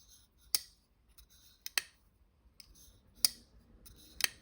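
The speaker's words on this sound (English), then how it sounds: "it has a ceramic, I guess, detent ball, and it makes some noise" A folding knife's ceramic detent ball, on an SPK Lamia V3, clicks several times, sharp and crisp, at irregular intervals against near silence.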